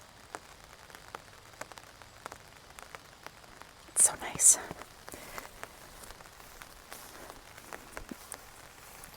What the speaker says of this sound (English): I love the sound of the rain on the umbrella.